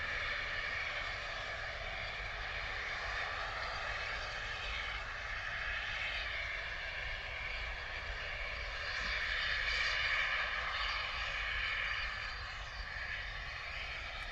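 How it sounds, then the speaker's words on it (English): An Aer Lingus ATR turboprop airliner arrives overhead at Bristol Airport with a steady, moderately distant droning hum. The hum swells slightly as the aircraft passes, and no other sounds accompany it. "here comes our second ATR from Air Lingus"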